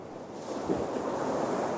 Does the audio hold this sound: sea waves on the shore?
yes